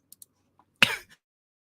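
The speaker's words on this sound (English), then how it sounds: "I'm going to cough 1 second." One short, close cough after a few faint clicks and a soft breath.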